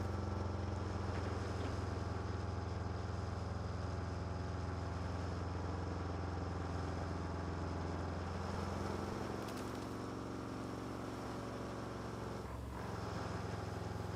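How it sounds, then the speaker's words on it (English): Rough, low engine rumble from a truck in the RoadCraft video game drones continuously and fairly loudly. Its pitch dips slightly partway through, and no voices are heard. "This truck sounds so rough,"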